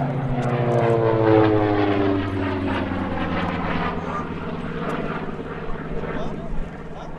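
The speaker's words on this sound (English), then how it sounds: "It's good to hear these round engines as we take you back to World War II." The deep, throbbing drone of WWII radial piston aircraft engines, from a T-6 Texan and SB2C Helldiver at an airshow, runs steadily throughout, with a voice speaking over it.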